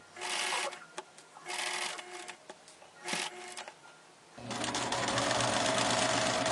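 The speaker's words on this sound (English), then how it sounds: "finish sewing that strip" Sewing machine stitching a fabric strip for a Lone Star tree skirt, close mechanical whirring in short start-stop runs, then a longer continuous run at a steady pace.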